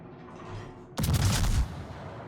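A naval gun fires in a warship video game: one sharp, loud report bursts out after a low, quiet background hum, then rumbles briefly before dying back to the hum, with no voices.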